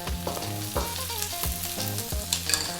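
Garlic, then onion, frying in a hot pan with a steady sizzle and repeated stirring or scraping strokes, while music with a regular beat plays loudly over the cooking.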